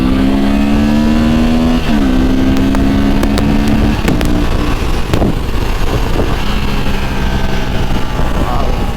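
Honda Transalp 750 motorcycle accelerating on a highway, a loud steady engine drone with rising harmonic pitch, a gear shift near two seconds, then continued pull under heavy wind noise throughout.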